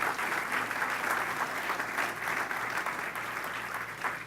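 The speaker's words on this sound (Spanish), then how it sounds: "Denle un aplauso al Señor." A church congregation applauding steadily and loudly throughout, a dense wash of many hands clapping together with faint background murmur, fairly close and continuous without pause.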